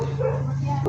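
A single short dog bark or yip close by, over a steady low hum, with a brief voice-like sound near the end.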